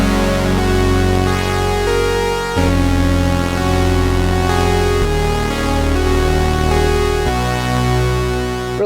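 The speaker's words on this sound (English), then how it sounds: "Here we're almost able to get like a dual oscillator sound like this" Sequential Prophet 10 Special Edition synthesizer playing a thick, detuned dual-oscillator sound, sustained chords that shift every couple of seconds, loud and close with no talking.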